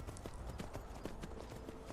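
Rapid video game horse hoof clip-clops patter in a steady trotting rhythm in Skyrim, close and continuous, with a faint murmur of noise underneath.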